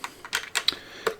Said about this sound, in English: but this is a gaming keyboard, gaming style keyboard